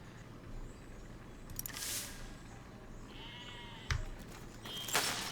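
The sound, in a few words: sheep bleating in the video game Besiege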